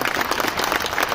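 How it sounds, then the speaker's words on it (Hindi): Dense audience applause at a ceremony honoring war widows, a steady wash of many hands clapping at fairly close range, continuous and without pauses. "और एक ताली रिक्वेस्ट है खुद के लिए भी,"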